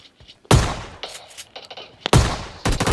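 Gunfire sounds in a video game, with several sharp, loud shots and bursts at irregular intervals, separated by quieter game noise.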